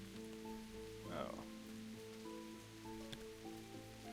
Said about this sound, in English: This like the hard rain continues throughout the night